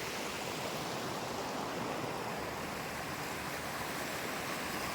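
Canal water rushing among rocks, heavy with released flow, makes a constant loud broadband roar close by with no pauses or voices.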